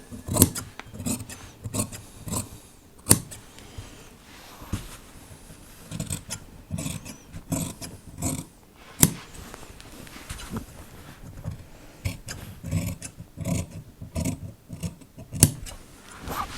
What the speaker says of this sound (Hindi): तो ये इतना इतना एक एक पैर का छोड़ के हम इसको काट देंगे।